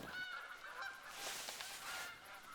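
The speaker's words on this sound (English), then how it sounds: "I wonder if you can take a geese." Geese honk in the hunting game The Hunter: Call of the Wild, with a string of nasal calls at moderate distance over faint outdoor ambience and no talk.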